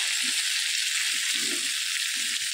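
Ridge gourd hits a hot pan with broiler chicken and sizzles loudly and steadily, a dense close hiss with a few soft stirring thumps underneath.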